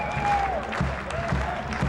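A street crowd in Rome claps warmly for marching pikemen and musketeers, a steady dense patter of applause with faint voices mixed in throughout.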